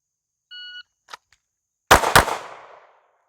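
Two sharp, loud handgun shots in quick succession during shooting practice, each cracking and ringing off, preceded by a short electronic timer beep and a couple of faint clicks.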